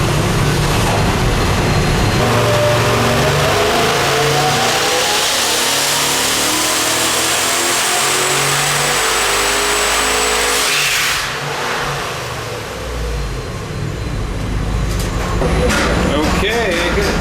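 Twin-turbo 447 ci LS engine on a dyno, breathing through mufflers, roaring loud and sustained as it revs, dipping briefly before surging again, with people talking under the noise.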